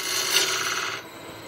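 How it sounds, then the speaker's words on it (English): A woodturning tool cuts across a ridge on an acacia jewellery box, giving a close, steady scraping rasp for about a second before it fades to a quieter hiss. "That ridge there is a bit iffy, so we just take a cut across there"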